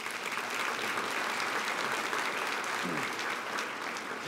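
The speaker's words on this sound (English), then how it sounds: "How about a round of applause for them?" Audience applause at a university engineering college event, a steady dense wash of many hands clapping that holds at an even level throughout without pause.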